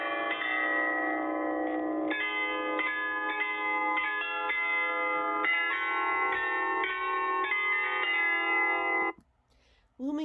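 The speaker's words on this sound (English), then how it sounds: "The tower's 35 bells chime 3 times a day." Carillon of 35 bells in a Salzburg bell tower chiming a loud, sustained melody of overlapping ringing tones for about nine seconds, then breaking off into near silence.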